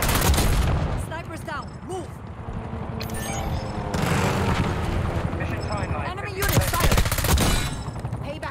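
Loud, sustained automatic gunfire in Black Ops 6, with an AS VAL among the weapons, rattling in bursts alongside explosions, with a person talking over the shooting.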